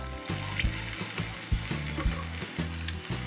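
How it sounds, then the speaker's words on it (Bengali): Two eggs fry in a pan beside chicken for chicken vegetable fried rice, giving a steady close sizzle punctuated by regular rhythmic scraping knocks of a spatula. "ডিমগুলোকে আমরা একটু ভালোভাবে ভেজে নিব"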